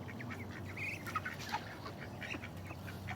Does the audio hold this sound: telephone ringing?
no